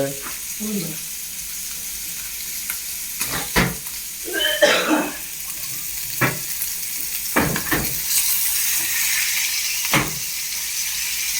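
Fish fries in hot oil with a loud, continuous sizzle, broken by several sharp clatters and scraping sounds as it is turned.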